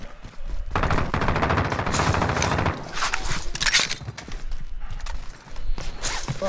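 Gunfire in Call of Duty Warzone, loud sustained bursts of automatic fire with scattered shots, dense and close, in a busy game mix.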